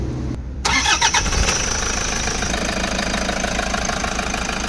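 A Toyota Hiace Commuter 1KD diesel engine cranks and catches, then settles into a steady, loud idle with a rough, rattling mechanical rumble close by.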